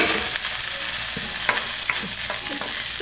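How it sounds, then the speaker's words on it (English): Fried rice with organic breakfast sausage and egg sizzles loudly in a pan while a utensil scrapes and stirs it in irregular strokes, with no talking. "Okay, we're gonna stir it."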